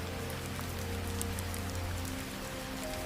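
Heavy rain falls during a storm as a steady, soft patter, set under sustained musical tones at a moderate, even level.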